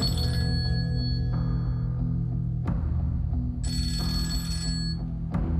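A telephone rings over and over with a steady electronic ring tone, loud and close, each burst cutting in and repeating, with no voices.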